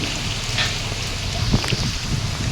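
Typhoon Enteng's strong winds rush through trees in Vigan, Ilocos Sur, a steady roaring whoosh with rain hiss and occasional rustling gusts, continuous and close.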